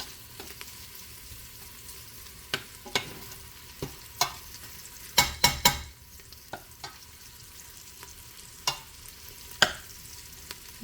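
Collard greens fry on high heat in a pot, browning on the bottom, giving a low steady sizzle broken by sharp clinks and scrapes of stirring, with a tight cluster of louder knocks midway.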